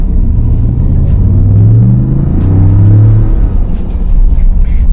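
A 2020 Ford F-150 4x2 Lariat SuperCrew pickup with automatic transmission, heard from inside while driving, gives a loud, steady low engine and road rumble that swells slightly as it accelerates, with no talking.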